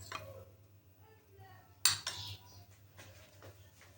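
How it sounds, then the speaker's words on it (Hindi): A spoon works a mashed potato mixture with three tablespoons of corn starch in a bowl, soft quiet stirring broken by one sharp, bright clink against the bowl partway through. "अच्छी तरह से इसको मिक्स करेंगे।"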